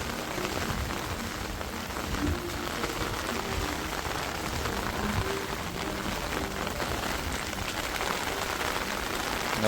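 Heavy rain falls steadily over a residential society in Surat, a thick unbroken patter of drops on surfaces, near and even in loudness, with no voices.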